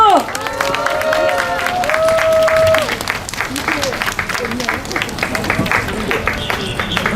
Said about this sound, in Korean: 엄숙한 약속을 박수로 환영해 주십시오